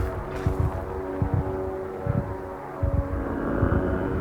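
A small aircraft in Minecraft during a mob battle gives a steady loud droning engine hum with a propeller-like buzz, overlaid by thumping impacts and game noise, with no speech.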